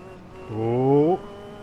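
A Caterham race car engine in Automobilista 2, a brief throttle blip that rises to a buzzing rasp for about half a second and then drops back to a quiet idle hum.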